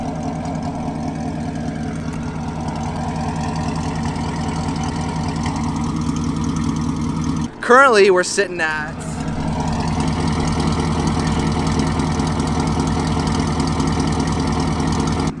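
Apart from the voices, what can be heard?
car engine idling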